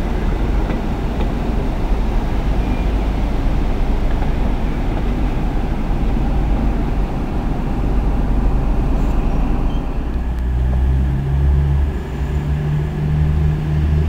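A Meridian diesel train powered by a VP185 engine rumbles and hums continuously at a Leicester station as it pulls away, with a steady low drone and rising engine tones near the end.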